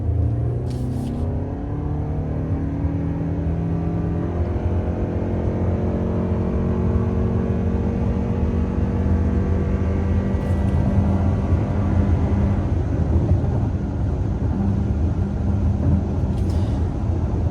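A large Toyota car with a non-V6 engine driven at full throttle, its engine droning as a loud, continuous rising rumble that keeps building under acceleration, with no talking.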